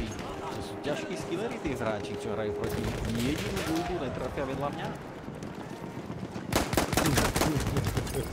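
Rapid gunfire from a Battlefield 1 match during sniper combat, fired in quick bursts that grow louder near the end, mixed with game music and effects while people talk throughout.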